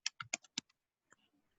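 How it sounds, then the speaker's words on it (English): A password is typed on a computer keyboard: a quick burst of about six crisp key clicks, then a couple of softer taps, close and quiet with no talking. "so just keep on typing"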